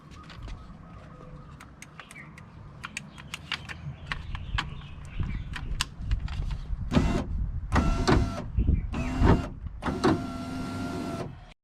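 An electric power window motor in a 2007 Ford F150 door whirs in several separate runs, moving the glass in short bursts with pauses between, close by and fairly quiet, among scattered clicks and handling noises.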